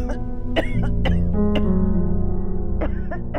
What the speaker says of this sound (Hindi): फिर सारी रात ऐसे खांसती है